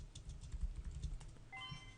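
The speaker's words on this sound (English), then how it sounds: "I'm going to start typing right in here" Faint, quick clatter of keystrokes on a computer keyboard, a loose run of light taps under a low background hum, with a few steady tones sliding in near the end.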